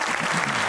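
A brief burst of audience applause in a television studio, dense steady clapping at full level for under a second.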